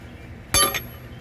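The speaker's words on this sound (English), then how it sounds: "Oh, it's just the cover coming off." A single sharp metallic clink as the cover comes off a Cummins CP3 fuel pump regulator with an aluminum housing, close by, followed by a faint ringing tail over low background noise.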